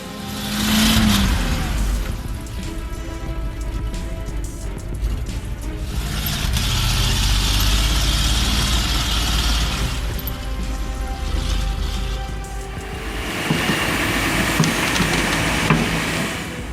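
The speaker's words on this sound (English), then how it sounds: "The Zeal is carrying wood through a deeply muddy road, like a steadfast warrior." A loaded logging truck engine labors through a deeply muddy road, a loud sustained roar that swells and revs as it strains, with occasional clunks.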